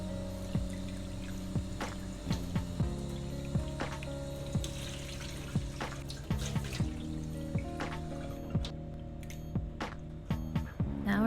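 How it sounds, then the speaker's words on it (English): Raw shrimp, cleaned with cornstarch, rinsed under running tap water in a sink: a steady splashing stream broken by frequent sharp clinks and knocks as the shrimp and bowl are handled, close and fairly loud. "then I just rinse it with water"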